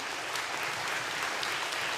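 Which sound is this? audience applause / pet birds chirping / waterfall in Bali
audience applause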